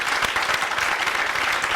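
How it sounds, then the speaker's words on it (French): Audience applause at a French-language quiz show, a dense continuous clapping from a room crowd with no voices. "on va les applaudir."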